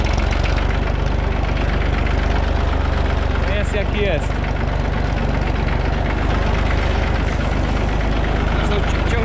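A tractor's engine runs with a heavy, steady low rumble and knock while reversing a cart, close and constant as someone speaks briefly over it.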